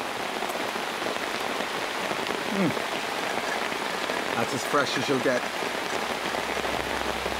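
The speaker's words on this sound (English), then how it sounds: "At least the torrential rain means that getting enough water won't be a problem." Heavy torrential rain pours down in the jungle, a dense, constant hiss of drops on surfaces, while someone speaks briefly over it.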